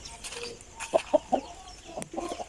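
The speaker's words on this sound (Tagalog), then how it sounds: "Ay manok ko." A chicken clucks in a few short, close calls around a rural Filipino house yard, with quieter background sounds between them.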